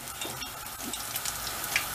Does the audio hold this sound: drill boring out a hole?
no